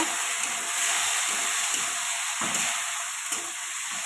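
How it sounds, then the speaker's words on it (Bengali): Masoor dal (red lentils) frying in a pan with dried red chillies for a Bengali dal ghonto, a steady close hiss and sizzle with soft scraping stirs recurring every second or so, no talking. "ডালটা একটু কষিয়ে নেব"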